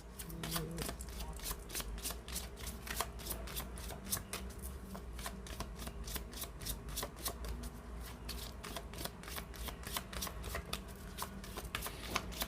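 A Gypsy oracle card deck is shuffled by hand in a steady run of crisp riffling flicks, close and fairly quiet, continuing for several seconds without talk.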